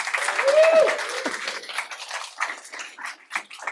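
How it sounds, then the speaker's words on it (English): Applause from the audience at a startup pitch night, starting under a voice and a brief tone, then continuing as scattered, uneven claps at moderate volume. "Let's give her a round of applause"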